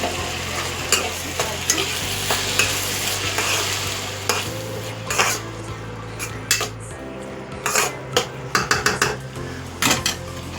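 Turmeric being stirred into frying food in a pan, with a steady sizzle underneath and a spoon scraping and clinking against the metal in irregular bursts, growing busier toward the end.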